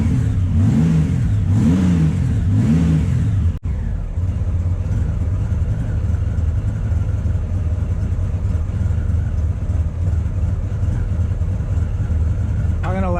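A motorcycle engine in the middle of a carburetor sync with cheap vacuum gauges revs in a few rising and falling swells, then cuts to a steady close idle, with voices heard over it.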